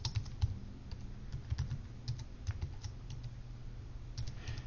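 Computer keyboard typing steadily while vendor address details go into a data entry form, with quick irregular clicks in close, quiet bursts and no talking.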